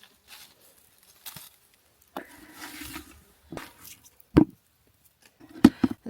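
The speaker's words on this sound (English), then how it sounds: "It started to rain, unfortunately, so we decided to go home." Rain begins falling in a Swedish forest during cloudberry foraging: sparse, irregular taps and patters land close by, separated by quiet gaps, with a few sharper drops standing out near the end.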